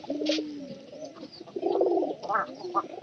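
Pigeons coo repeatedly in a pigeon house, their low, throaty calls rising and falling in overlapping bursts close to the microphone, with no voices.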